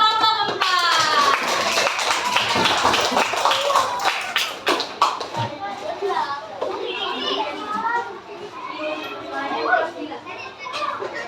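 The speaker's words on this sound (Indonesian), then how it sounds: "Tepuk tangan untuk kelompok 4." Fourth-grade children clap and cheer together in a lively burst in an Indonesian primary school classroom, with excited young voices chattering and calling out over the applause.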